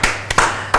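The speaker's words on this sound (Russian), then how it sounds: "Настя, аплодисменты." A few hand claps for the cook at a kitchen cooking show, three or four close, crisp claps spaced unevenly in a brief burst, with no one speaking.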